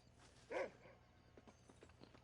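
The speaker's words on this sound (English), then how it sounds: "Why are you barking at me, doggy?" A dog in the Red Dead Redemption game gives one clear bark, followed by soft hoof-like clopping in the background, distant and quiet.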